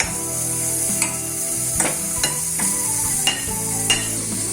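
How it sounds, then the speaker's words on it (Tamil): Dry fenugreek seeds and spices crackle and rustle in a hot pan for sambar, with a handful of sharp scrapes as a spoon stirs them at intervals, close up and steady. "இது வறுபட்டுட்டு இந்த அளவு வறுபட்டா போதும்,"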